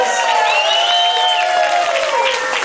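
A crowd at the opening ceremony of Teia 2014 applauds and cheers as the Bahia delegation arrives. The clapping is dense and steady, with shouting voices and whistle-like calls riding over it throughout.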